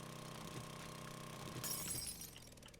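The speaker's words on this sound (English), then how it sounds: "All the little glass shards." Glass shattering inside the video game 7 Days to Die: a bright burst of breaking shards about two-thirds of the way through, rising over a steady low engine-like drone and ambient game noise.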